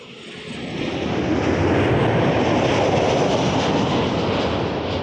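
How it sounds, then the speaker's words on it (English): A WestJet Boeing 737-800 jet from Calgary roars past at Toronto Pearson, its engine noise rising from quiet to a loud, steady, broadband rumble and holding near and strong. "737-800 from Calgary. Here's the WestJet."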